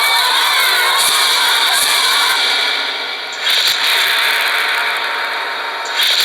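Spectators shouting around a professional boxing match in the Philippines, a loud continuous crowd roar with surges of cheering, dipping briefly mid-clip then swelling again.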